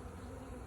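Honeybees buzzing steadily at close range, a dense continuous drone of many wings with no pauses and no voices over it.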